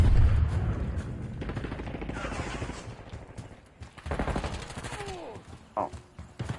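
Gunfire in a Call of Duty match: dense, continuous rattling bursts of automatic fire mixed with booming game effects, loud and close throughout.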